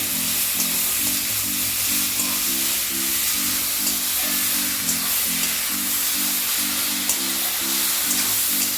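Spice paste containing turmeric fries in a pan with a steady, close sizzle and a rhythmic low stirring pulse running throughout, no voices.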